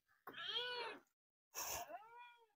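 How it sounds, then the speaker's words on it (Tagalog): A cat meows twice, close by, the second call rising then trailing off after a short silence. "May 4 na pusa."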